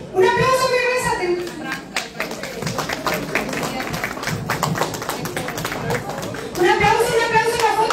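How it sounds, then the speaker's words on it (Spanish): Scattered clapping from a crowd at a film premiere for the movie El camion de la muerte, close and uneven, with voices speaking over it at the start and again at the end. "Un aplauso, mi rezate."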